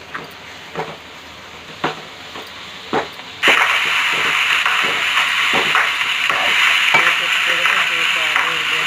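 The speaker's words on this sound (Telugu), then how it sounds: "డ్రై పొట్టు కూడా కొంచెంసేపు వేపాలి" Dried shrimp shells hit a hot pan and sizzle loudly, with steady frying hiss and the scrape and clatter of stirring, after a few tapping stirs before they go in.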